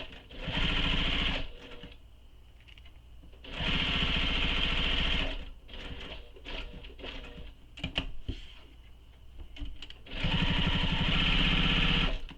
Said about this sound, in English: And I'm sewing back up the side, and I'm stopping right under that accent piece.